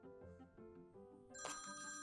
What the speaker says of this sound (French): Parfois, son téléphone sonne.